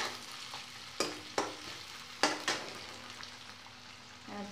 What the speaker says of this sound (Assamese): পিয়াজখিনি ৰঙা হোৱাকৈ ভাজিব লাগিব